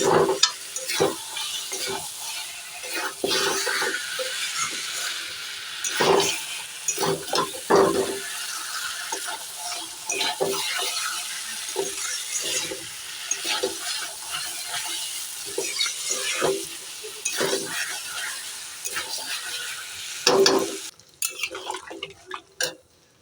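Fish head curry with potatoes sizzles in a pan after a little water is added, with repeated scraping and stirring strokes over a steady bubbling hiss, ending in a few clattering knocks.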